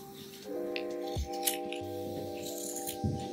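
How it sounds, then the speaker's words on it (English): Scissors snip through the fabric seam allowance of a skirt facing, trimming about 5 millimetres off in a few close, crisp cuts with small handling rustles between them. "Just go and cut approximately 5 millimeters off."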